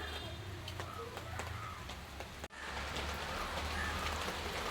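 Soft, steady patter of light rain falling on surfaces, with scattered drops ticking throughout and a brief dip in the middle.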